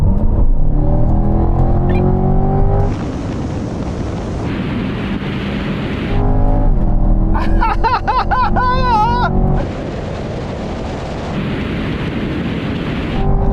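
A C8 Corvette and a Ferrari 458 Speciale running a rolling drag race from 50 mph, with loud engine roar rising through gear changes, wind buffeting the microphone, and a high revving wail climbing near the middle.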